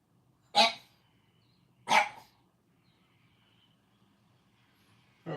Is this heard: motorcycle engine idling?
no